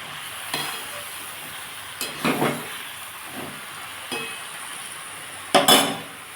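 Spinach and eggplant cook in spiced oil with a soft, low sizzle, broken by several clinks and scrapes of a utensil stirring in the pan, the last one louder and closer.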